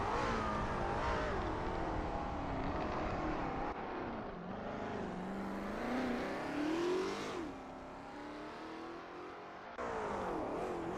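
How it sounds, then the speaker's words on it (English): A Lola T70 MkII Spyder race car engine at Sebring in a sim-racing game, revving up and down through gear changes with a rising and falling whine, steady and fairly distant, no voices. "Desert is getting to grips with the ASRL T70 MkII Spyder in this practice session."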